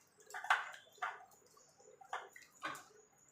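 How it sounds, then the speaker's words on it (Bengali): Bael fruit pulp being mashed by hand in cold water for a sherbet, a few soft wet squelches and splashes in separate bursts, quiet and close, with no talking. "এবার ভালো করে চটকে নেব"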